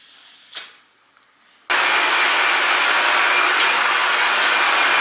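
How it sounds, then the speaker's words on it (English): A vacuum cleaner switches on abruptly after a brief quiet moment and roars steadily and loudly, a broad whooshing drone filling the rest. "I'm gonna wait and vacuum once Addie wakes up"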